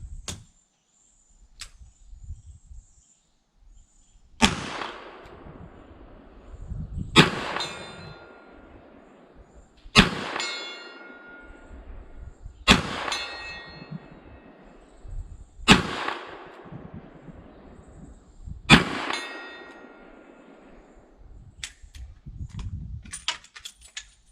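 Six loud shots from a Smith & Wesson Model 19-4 .357 Magnum revolver firing .38 Special and .357 Magnum at a 60-yard steel plate, each sharp crack evenly spaced a few seconds apart with a ringing tail, quiet between.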